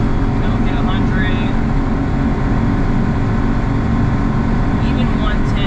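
A Suzuki Jimny JA11 drives on a New York highway, heard from inside the cabin as a loud, steady engine and road drone that continues without a break.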